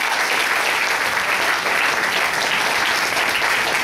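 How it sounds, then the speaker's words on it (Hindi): A stage audience gives loud, continuous applause for a trophy winner, a dense wash of clapping from start to finish. "दीपिका गुप्ता के लिए एक जोरदार तालियां होनी चाहिए"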